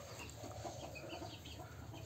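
Desi chickens and chicks in a coop, faint soft clucking and peeping beneath a steady background hum, continuous and low in level throughout.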